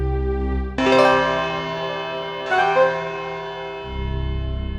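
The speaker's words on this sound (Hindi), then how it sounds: "5 सेकंड में 5 बजे की घंटी बजने वाली हो, देखिए" A clock bell strikes twice for five o'clock, each chime ringing out with rich, slowly decaying overtones above a low background hum.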